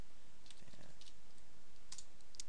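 Computer keyboard typing during a coding tutorial, a scattering of light clicks and keystroke bursts close to the mic over a quiet room background, with no talking.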